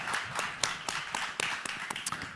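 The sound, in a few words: audience applause for panelists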